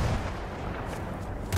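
Gunfire from the video game Battlefield 1 rumbles as a dense, continuous barrage of booming shots, with a louder burst near the end.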